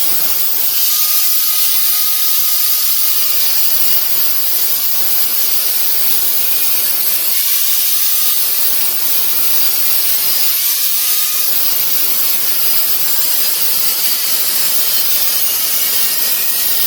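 Tack welds go onto an old bus body. A constant loud hiss and crackle of welding fills the whole stretch, with a few short, distinct bursts standing out and no voices.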